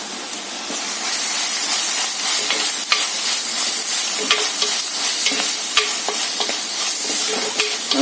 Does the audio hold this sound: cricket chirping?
no